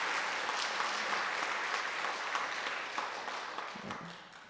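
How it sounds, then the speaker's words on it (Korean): An audience at a church women's association general assembly gives a long, even round of welcoming applause, dense and fairly distant, fading slightly toward the end. "다 같이 큰 박수로 환영하시겠습니다"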